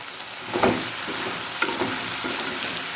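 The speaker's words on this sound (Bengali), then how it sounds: "আর এই তো এদিকে আমি ভেন্ডিটা একটু নেড়ে চেড়ে মিশিয়ে দিচ্ছি।" Okra frying in a pan while being stirred and turned, a steady broadband sizzle with a few scraping stir strokes, close and fairly loud, no talk.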